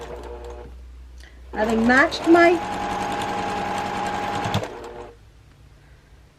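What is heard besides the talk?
sewing machine stitching a quarter-inch quilt block seam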